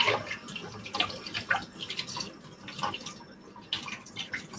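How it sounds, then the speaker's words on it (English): Tap water runs steadily into a sink while celery is rinsed, with soft splashing and dripping throughout, moderately close and alone. "wash up my celery here."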